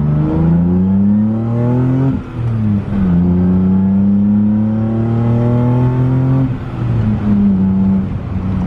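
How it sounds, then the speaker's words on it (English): A BMW E30 with an M50 engine and full 3-inch exhaust roars under full throttle, rising in pitch through several gear shifts with brief dips between them, loud and close. "I'll have the window cracked so you guys can get a better exhaust note"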